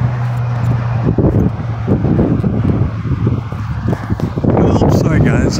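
Cold wind blows outdoors in wine country, buffeting the microphone as a loud low rumble that continues under a person's talking throughout.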